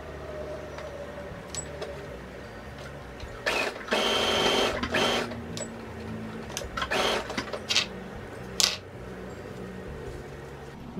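Sewing machine stitching headband fabric in short runs, a few seconds of steady whirring broken by pauses and brief bursts, close and fairly loud with no talk.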